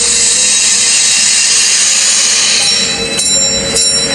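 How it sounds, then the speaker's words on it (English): A bell rings inside a vacuum chamber as air is let back in, a steady bright metallic ringing that stays loud and continuous throughout, with a couple of faint clicks near the end. "now I think you can hear the bell quite clearly"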